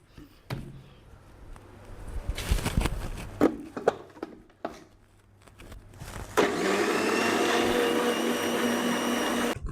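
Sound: mixer grinding cumin and turmeric with water

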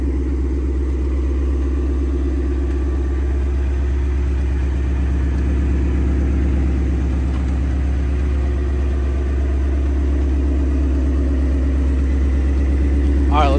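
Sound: Mustang engine idling after warm start

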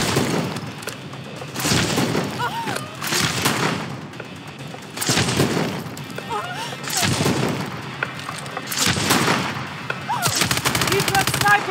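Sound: gunfire in the video game Call of Duty Advanced Warfare

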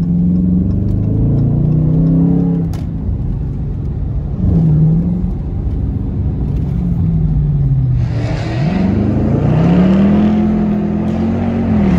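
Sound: Mopar muscle car engine revving in downtown traffic

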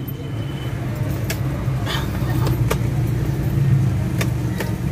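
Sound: Hyundai Porter II engine starting and running

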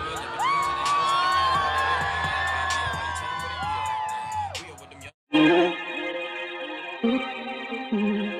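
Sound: festival crowd cheering for a band

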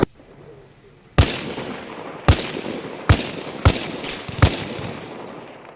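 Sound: explosion and gunfire in a video game

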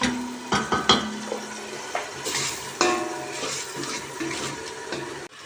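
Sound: onions sautéing in a pan for spinach soup

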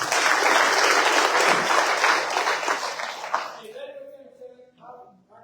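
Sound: crowd applause at political rally

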